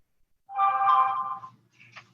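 A telephone ringtone chimes once during a Zoom meeting, a clear, loud, tonal ring lasting about a second and heard alone, followed by a short click.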